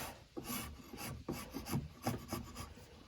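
Repeated rasping strokes of a hand tool scraping out wood on a small timber frame project, a steady series of close, rough scrapes at an uneven rhythm with no talking.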